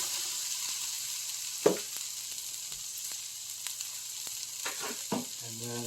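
Ground beef frying in a pan gives a steady close sizzle with a low hum beneath it, broken by a few scraping stirs and light clinks.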